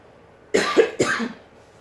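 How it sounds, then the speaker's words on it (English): Two quick, sharp coughs close to the microphone, followed by a short trailing breath, then quiet. "I've been having cough since yesterday."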